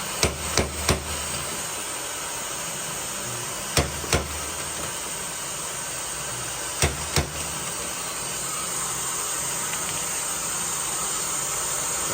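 Sharp metallic hammer blows on a BMW quarter panel, knocking down a ridge above the body line, in quick pairs and triplets separated by pauses, ringing against a steady hiss in the background.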